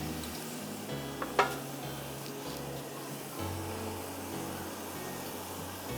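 Chopped tomatoes frying in a pan for a vegetable pulao, a steady soft sizzle with light stirring and a sharp utensil clink early on, heard alone without talk.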